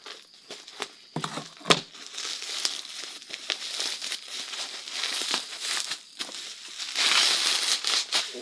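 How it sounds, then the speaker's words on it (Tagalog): Plastic wrapping on a sponsored package crinkles and crackles in close, irregular bursts as it is pulled and torn open by hand, with sharper snaps partway through and a busier stretch of rustling near the end. "Kaya ang daming balot."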